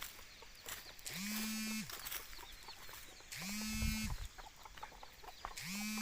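Chickens in a vegetable garden cluck and squawk faintly at a distance, with repeated drawn-out calls over a steady hum and rustling background.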